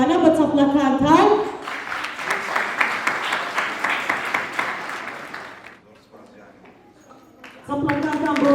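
An audience of schoolchildren and staff claps at a school Kurdistan Flag Day ceremony; a steady burst of applause runs for several seconds between stretches of a speaker's amplified voice.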